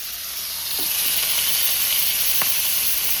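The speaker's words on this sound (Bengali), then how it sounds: "মাছটা ভেজে দিই আমি।" Large fish frying in hot oil, a continuous close sizzle and hiss with a few light scrapes of a utensil.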